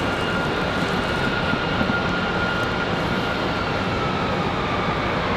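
Airbus A321 jet, American 1897, rolling for takeoff on a snowy runway at Raleigh-Durham airport: a steady, dense engine roar that holds loud and even throughout with no voices.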